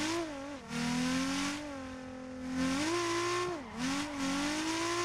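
Engine revving in Torque Drift 2, a drift car's motor rising and dipping in pitch as the clutch is kicked, steady and close with no talk.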